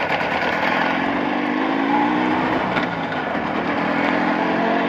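Motorcycle engine fitted with Chinese cylinders being run in at +40 degrees, a loud, steady running drone that holds even throughout with no pauses or talk.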